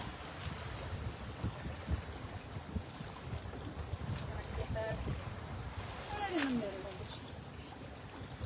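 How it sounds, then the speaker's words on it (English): Steady wind buffets the microphone aboard a sailboat off Anchorage, a rushing roar with a faint creak or whistle near the end and a voice speaking under it. "I don't know if you can hear me with all the wind."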